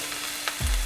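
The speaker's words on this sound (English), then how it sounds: "I have heated here 2 tablespoons of vegetable oil. To this I'm adding the finely chopped" Finely chopped lemongrass hits hot vegetable oil in a pan, giving a steady close sizzle with a low stirring rumble toward the end.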